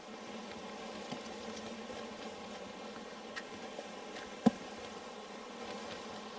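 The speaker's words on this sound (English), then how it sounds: "you're going to have some bees flying out that I didn't spray" Bees from a package being installed buzz faintly and steadily as they fly out, with a couple of soft clicks and one sharper tap standing out.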